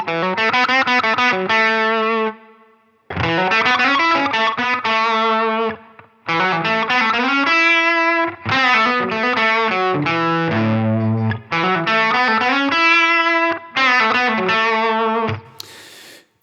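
An electric guitar runs through a Line 6 Helix, dialed for an early tone with chorus-like depth. Loud, clear chordal phrases come in several bursts separated by short pauses, with no voices.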